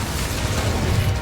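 Incendio fire spell cast in the video game Hogwarts Legacy, a dense, loud burst of roaring, crackling flame with a low booming rumble, lasting just over a second.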